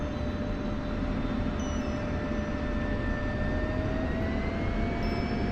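Aircraft engine taxiing in a flight video game, a steady droning roar with a faint rising whine layered over it, continuous and even throughout.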